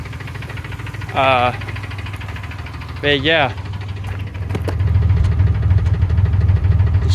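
A project car engine idles with a rough, uneven ticking rumble from a misfire that grows louder toward the end; a voice briefly speaks over it.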